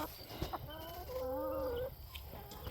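Chickens cluck and make drawn-out calls in a coop, a few close, tonal vocalizations with quieter background noise.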